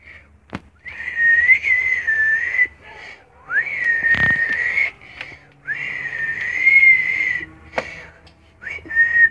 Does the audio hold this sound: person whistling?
yes